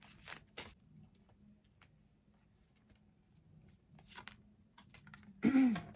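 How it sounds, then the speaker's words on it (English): Soft, scattered riffling and flicking of tarot cards being shuffled, in short bursts with quiet pauses between, ending in a louder rustle. "I just had a bunch of cards fly out, so I'll shuffle again."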